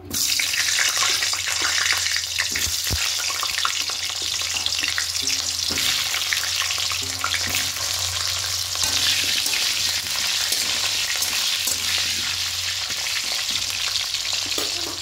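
Pieces of pointed gourd (potol) sizzle in hot oil in a pan, a dense, steady crackle and hiss that runs loud and unbroken throughout, with a few sharper pops and no voices.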